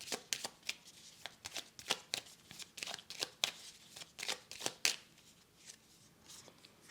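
Tarot cards riffled and shuffled by hand, then dealt out onto a spread, giving quick papery slaps and flicks in an irregular run of close, distinct bursts with no talking.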